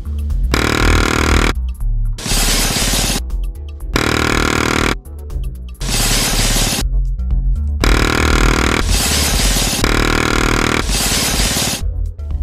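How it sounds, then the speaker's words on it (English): Bursts of M134 minigun fire, alternating the slowed movie version from The Matrix with a live-fire recording: several loud, dense roaring blasts of a second or so each, separated by short gaps, with no talk. "the gun that we heard in The Matrix and an actual M134 minigun as recorded during live fire"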